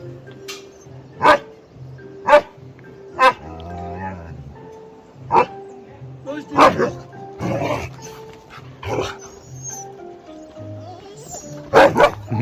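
A husky plays with another male dog, giving repeated sharp barks and yips, some close and loud, spaced irregularly with brief whimpers, while a person talks in the background.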